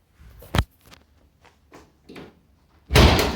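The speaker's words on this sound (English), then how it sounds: "If I can get the door open." Cab door of a rusty 1967 Chevrolet C10 truck being worked open, with a few scattered metallic clicks and rattles, then a loud, broad thunk as the door swings free at the end; no one talks.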